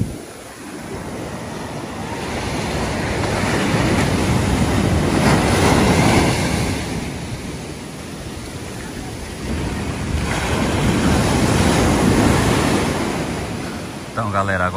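Ocean waves roll and break on Praia do Éden beach in Guarujá, a loud, close, continuous roar that swells and recedes in long surges over several seconds.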